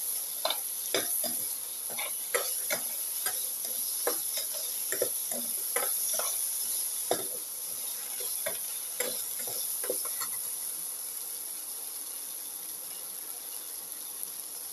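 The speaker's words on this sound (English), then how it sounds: "thoroughly mix the potato piece" Potato pieces stirred in a frying pan while cooking for a cumin potato coconut dish, with repeated scraping spoon clicks over a soft steady sizzle, close and fairly quiet, the stirring easing off toward the end.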